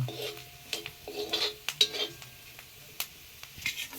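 A spoon scrapes and clinks against a pan while stirring onion, tomato and chili powder in a Konkani-style home kitchen, with irregular close taps and soft frying hiss, no talking.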